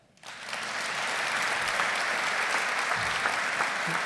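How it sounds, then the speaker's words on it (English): A theater audience at a veterans' event bursts into loud, sustained clapping that swells in quickly and holds steady as a dense, close wash of many hands. "you can respond by clapping if you agree."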